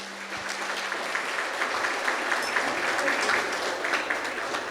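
An audience at a civil protection directorate installation ceremony applauds the new director general, a moderate, steady patter of clapping throughout after a brief tone at the start.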